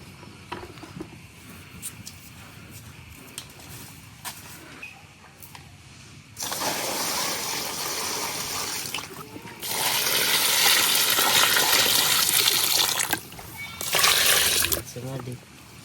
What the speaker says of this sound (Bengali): এখন এনে আরো পানি দিয়ে একদম বালতিগুলো বইরা রেখে দেন।